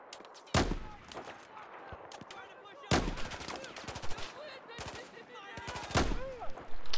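Gunfire in Battlefield 4 on the Baku mission: sharp bursts of rapid automatic shots come in three loud volleys, with scattered single cracks and faint game voices in between.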